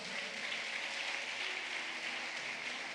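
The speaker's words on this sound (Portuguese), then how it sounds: "Você pode aplaudir ao Senhor." A church congregation applauding together, a steady dense wash of clapping that holds evenly from start to end with no voices rising above it.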